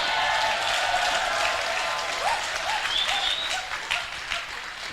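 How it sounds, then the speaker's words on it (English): A sermon audience breaks into sustained, loud applause that fills the space evenly, a dense wash of many hands clapping at once, with faint voices and cheers rising within it. "Clap"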